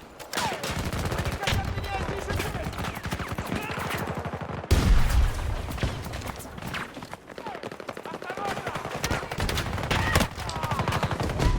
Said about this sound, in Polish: Rzucam granat!